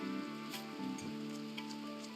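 Soft steady rain falling in the video game RimWorld, a continuous low hiss with faint patter, alone with no talk.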